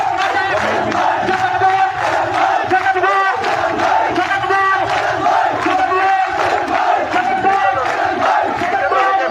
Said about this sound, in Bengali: বিভিন্ন জায়গা থেকে মিছিল আসছে